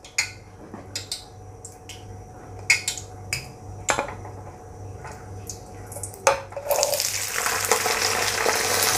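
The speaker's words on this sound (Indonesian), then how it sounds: "Sekarang saya akan goreng dulu untuk semua bahan sambal tomatnya. Ini minyaknya sudah panas." Tomato sambal ingredients sizzle in hot oil in a pan with a low steady crackle, broken by sharp clinks of a utensil against the pan and a rising hiss near the end.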